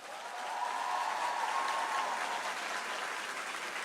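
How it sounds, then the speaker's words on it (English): Audience applause at the Jamaica Creative Career Expo 2024 after a theatrical excerpt, a full, even roar of clapping that swells and holds, heard from within the hall, with a faint voice or tone beneath it. "Can we get a loud round of applause for the excerpt from Pitchy Patchy?"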